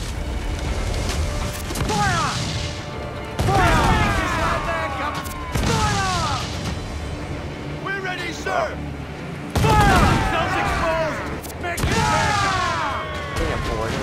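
Ship cannons fire in repeated broadside volleys during a naval battle in Assassin's Creed IV Black Flag, loud booming bursts every few seconds over crew shouts and music.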